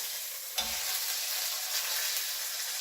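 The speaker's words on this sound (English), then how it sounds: "what we're really doing here is we're searing the meat" Pot roast meat searing in a hot pan produces a continuous, even hiss at moderate volume, with one brief clunk early on and no voices.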